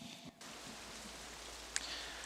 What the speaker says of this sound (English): The rain's absolutely lashing down on the track.